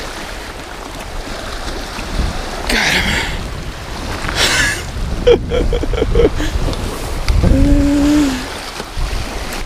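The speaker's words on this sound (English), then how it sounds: "The waves pushed him in." Waves washing against a rocky shore during spring catfishing, a steady broadband wash throughout with a few short voices and exclamations over it.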